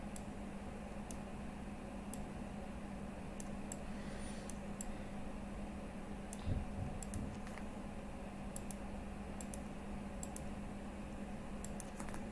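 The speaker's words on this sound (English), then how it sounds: "Sorry for all the clicking." Computer mouse and keyboard clicking in a quiet room, a steady run of sharp, light clicks and taps spread across the whole stretch, close to the microphone with no talking.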